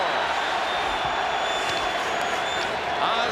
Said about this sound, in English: And now listen to this crowd in Chicago.